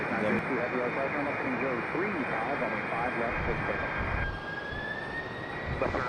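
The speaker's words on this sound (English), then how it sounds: "FedEx 767 on the" A FedEx Boeing 767 jet at Raleigh-Durham International Airport gives a steady, loud roar of engine noise that holds throughout, with a rising whine near the end and a voice talking over it.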